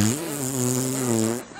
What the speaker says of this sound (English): Did somebody fart?